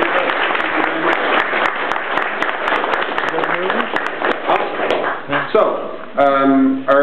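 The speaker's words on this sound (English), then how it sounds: "if you don't mind a round of applause" Audience applause at a museum season-opening ceremony for a wooden boat museum in Winterton, steady clapping from a crowd for several seconds, tapering off as a voice begins speaking.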